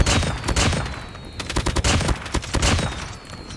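An LK24 rifle in Call of Duty fires in rapid bursts, a dense run of loud, close, sharp cracks with brief pauses between volleys.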